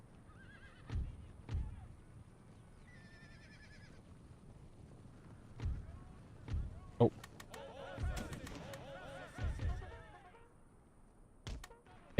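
Cavalry horses in Empire: Total War neighing in several sharp whinnies and thumping hoof beats, loud and intermittent over a quiet battlefield bed, with a brief spoken exclamation.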